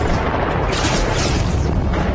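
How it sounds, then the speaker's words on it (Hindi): Dense, continuous booming bursts like gunfire and firecracker bangs from a dacoit gang's shootout in the Chambal region, loud and sustained throughout with no pauses and no talking. "ये रूपा महाराज की गैंग की गोलियों की गूंज थी जो उसके दुश्मनों पर बरस रही थी।"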